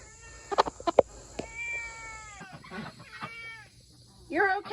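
A cat meows several times close by, with a few short cries followed by longer drawn-out meows, fairly quiet in a setting with backyard chickens.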